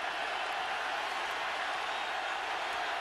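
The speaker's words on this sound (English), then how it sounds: "Crowd again is up and cheering on this Alabama defense." Steady, distant roar of a football stadium crowd cheering for the Alabama defense, a broad even wash of noise with no distinct claps or voices standing out.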